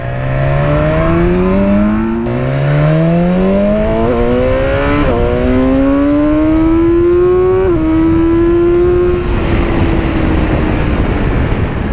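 A 2019 BMW S1000XR motorcycle engine revs hard toward 9,000–10,000 rpm, its pitch climbing steadily through several gear pulls over twelve seconds, loud and close with no talk.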